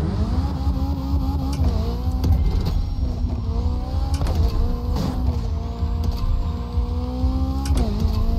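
A McLaren's engine in a racing game drones and shifts pitch as it accelerates through gears, a continuous loud hum with stepped rises and brief dips between changes, no talk.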